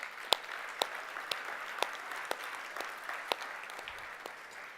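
Sparse, slow clapping at a gala banquet, a few distinct claps spaced roughly half a second apart over a faint room background, fairly quiet and without a full crowd ovation.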